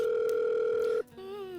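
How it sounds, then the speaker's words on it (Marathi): A steady telephone dial tone sounds for about a second, loud and close, then cuts off abruptly and leaves a quieter background hum. "मी त्यांना जरा फोन करते"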